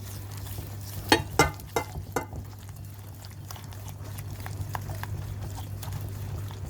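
Sugar beaten with egg yolks in a bowl for tiramisu, an irregular series of soft tapping and scraping strokes close by over a steady low hum.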